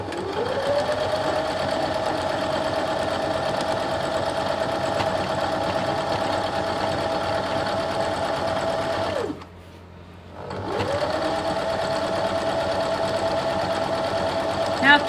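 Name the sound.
sewing machine stitching quilt block sashing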